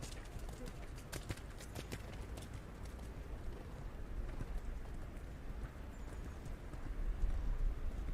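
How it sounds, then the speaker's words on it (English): A horse's hooves beat in a rhythmic canter on arena footing during dressage at a junior eventing championship, soft repeated thuds under commentary and a distant crowd hush. "A bold medium canter on this circle."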